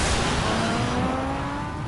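A Ferrari in Batman Telltale, The Enemy Within, pulls away with a loud, close engine roar and rush of noise that fades slightly over a short burst.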